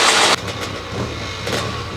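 A two-stroke Honda motorcycle at a club hillclimb, its engine burbling in the mid distance after a brief loud burst at the start, with the note rising and falling slightly.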